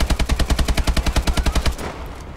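Rapid automatic gunfire in Call of Duty Advanced Warfare, a loud, close burst of evenly spaced shots lasting almost two seconds, then a fading echo.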